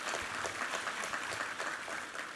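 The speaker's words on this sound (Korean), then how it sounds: "우리 하나님께 감사와 영광의 박수 올려드리겠습니다" A Korean church congregation applauds during a Sunday worship service, a brief steady wash of many hands clapping at a moderate level.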